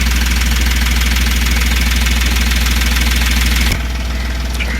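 A loud, close diesel engine of a 2018 Ashok Leyland Dost RLS BS4 truck rumbles with a knocking idle, then the sound shifts suddenly lower and quieter near the end.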